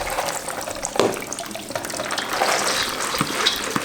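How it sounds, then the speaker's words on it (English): Cold tap water runs over a colander full of dried 15-bean soup mix and lentils, a steady splashing hiss with occasional clatters and knocks from the beans and colander, close and fairly loud. "just get some cold water going and dump them in the colander"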